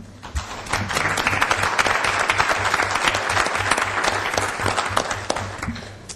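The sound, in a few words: audience applause at a commission meeting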